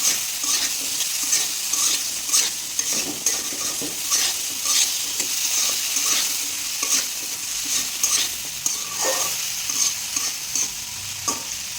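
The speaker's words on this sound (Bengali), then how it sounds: "এখন আমি আলু ভাজিটা বসাইলাম।" Potatoes frying in a pan as a potato bhaji, stirred steadily: a continuous sizzle with repeated scraping and clinking stir strokes throughout, close and fairly loud, with no talking.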